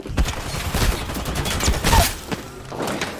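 Video game gunfire in ranked multiplayer play, a dense burst of rapid overlapping shots and thuds that continues for several seconds at close range.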